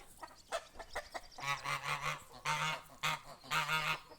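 Nearby domestic ducks, including a large drake, give loud, harsh honking calls in short bursts on a farmstead, with softer clucks and clicks between them.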